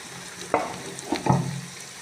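Onions sizzle softly as they fry and brown in a pan, a quiet steady crackle broken by a few stirring scrapes and clinks, with nobody talking.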